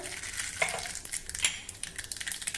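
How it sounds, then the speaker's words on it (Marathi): Mustard seeds hit hot oil for tempering, giving soft crackling pops and a light sizzle with a few sharp spatters, fairly quiet and close. "तेल गरम झालं की त्यामध्ये मोहरी घालूया"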